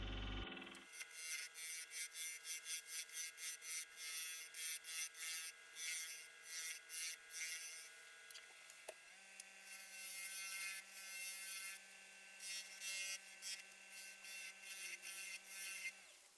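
A wood lathe spins the base of a lidded wooden box held in a jam chuck while the tenon is cut away, giving a steady faint motor whine under a rapid series of scraping tool contacts, with a brief pause midway.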